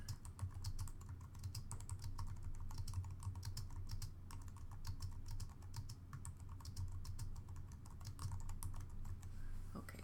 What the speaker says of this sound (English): So now I can go ahead and type anything I want.